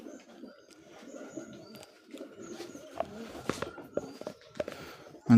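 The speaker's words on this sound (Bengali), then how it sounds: "অনেক সুন্দর কবুতর" Wild pigeons coo softly and repeatedly up close, mixed with wing flutters and shuffling footsteps in a quiet setting.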